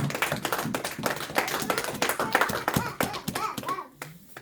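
A church congregation claps and applauds together, a dense run of overlapping hand claps that stays fairly loud for several seconds before thinning out near the end.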